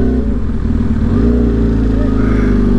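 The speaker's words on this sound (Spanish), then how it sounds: "Otra moto." A motorcycle on the road at Tres Marías passes close by, its engine a loud, steady drone that swells slightly as it goes by over a rumble of road noise.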